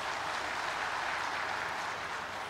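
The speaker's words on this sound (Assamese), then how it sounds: "সকলোৱে এটা হাত চাপৰিৰে তেখেতক ধন্যবাদ জনাওক" A crowd gathered at a martyrs' memorial site claps to thank the chief minister, producing a continuous, even wash of applause that stays loud and unbroken from start to finish.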